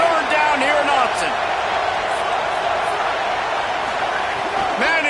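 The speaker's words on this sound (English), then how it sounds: "How can a stadium this size make so much noise?" A loud stadium crowd roars steadily at a Texas Longhorns versus Oregon college football game in Austin, a dense, continuous wash of noise with faint shouts rising through it.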